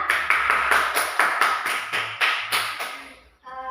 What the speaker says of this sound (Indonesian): Tepuk tangan buat Sabrina.